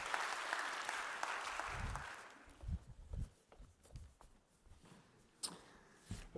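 Applause from a conference audience at a report launch fills the opening seconds, then fades into scattered claps, shuffling, and a few light knocks.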